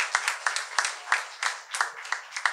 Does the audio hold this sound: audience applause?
yes